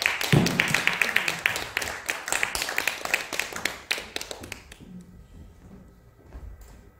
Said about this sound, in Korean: 남오우 연주자를 여러분의 큰 박수와 함께 무대로 모시겠습니다.